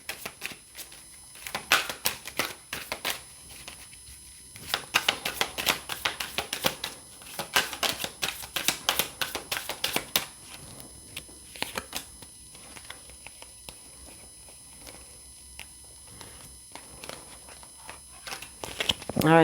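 Phoenix Rising Oracle cards being shuffled: a steady run of crisp, rapid flicking and riffling clicks, close and fairly loud, continuing without a voice over them.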